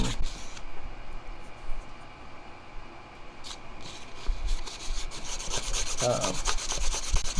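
Wooden spoon being sanded with 600 grit sandpaper, irregular rubbing strokes that grow busier and louder toward the end, close and without voices.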